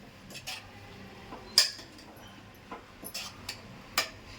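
A spatula stirs and roasts a grated carrot mixture in a metal pan, giving sparse, light clinks and scrapes at an uneven rhythm, close and fairly quiet, with no talking.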